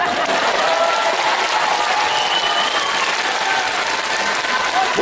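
Audience applause at a festive concert, dense steady clapping from a large crowd filling the whole stretch at close, loud level.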